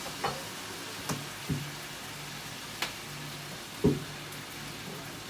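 Hoisin chicken with dark soy sauce and cider vinegar being stirred in a pan, giving soft scattered scrapes and clicks at an irregular pace over a quiet sizzling background.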